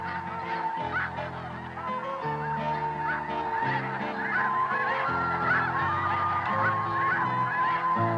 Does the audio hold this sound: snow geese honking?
yes